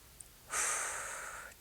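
One deep breath during a strength-training stretch, a single soft airy exhale lasting about a second, close and fairly quiet, with no talk.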